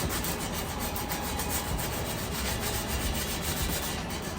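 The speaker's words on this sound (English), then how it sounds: "basically you want to start with a 60 grit, which is like a very, very coarse kind of sandpaper, and you want to go over the areas and just smooth it out" Coarse 60 grit sandpaper is rubbed by hand over painted metal patio furniture, making a steady, close, faint rasping scrub that continues evenly without any pauses or talking.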